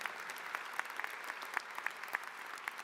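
Audience applauding at a university graduation commencement ceremony, a steady dense patter of many hands clapping at moderate distance, no speech.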